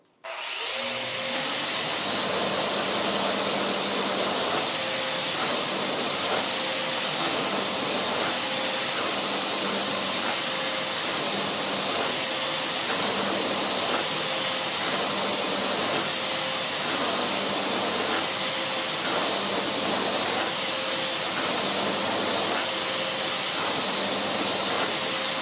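A Festool Rotex 125 or ETS 125 sander works a flat workpiece, a loud, unbroken whirring whine with airy hiss that starts abruptly and runs steadily to the end.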